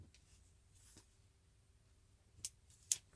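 Two or three short, crisp snips of scissors trimming little threads off dollar-store flip-flops, close and isolated against a quiet room hum.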